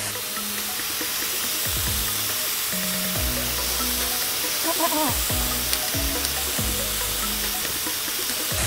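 Onions frying on a Blackstone flat-top griddle for cheeseburgers, a loud continuous sizzle broken by spatula scrapes and clanks against the steel, close by, with no voices.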